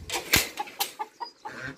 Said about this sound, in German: Jetzt lassen wir mal die Hühner raus.